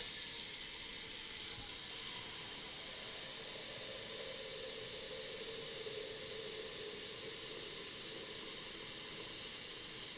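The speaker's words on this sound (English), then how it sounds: "So I'm going to add some water to this pot as well." Tap water pours steadily into a cooking pot for pasta in a kitchen, a continuous broadband hiss and rush that softens slightly after the first couple of seconds and then holds evenly.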